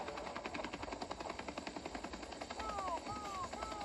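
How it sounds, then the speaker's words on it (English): A helicopter's rotor thumps in a steady rapid pulse amid video game gunfire and chirping tones, fairly loud throughout. "Uh-oh, a big old helicopter."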